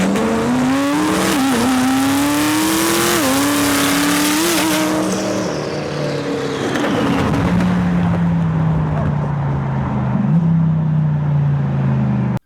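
Twin-turbo Corvette C8 cars race and accelerate hard, engine pitch climbing through several gear changes before a drop and a steady lower drone as the cars run on, loud and close.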